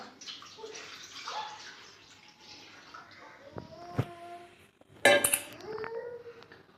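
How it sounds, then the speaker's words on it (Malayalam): Second and third extract coconut milk is poured into a pot, a gentle liquid splash and trickle followed by clinks of a metal vessel and utensil, close by and moderately loud, without speech. "ഞാൻ തേങ്ങാപ്പാൽ പിഴിഞ്ഞെടുത്താണ് ഇത് രണ്ടാം പാലും മൂന്നാം പാലും കൂടിയാണ് ഇത് ഒഴിച്ചു കൊടുക്കാം"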